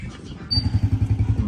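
A motorcycle being taken out on a farm settles into a rhythmic, thumping idle partway through, its low engine pulses steady and close after a brief quieter start.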